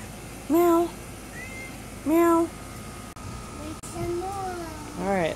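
A cat meows repeatedly, loud and close, in drawn-out cries spaced a second or two apart, the last ones rising in pitch, with a voice and household sounds between them.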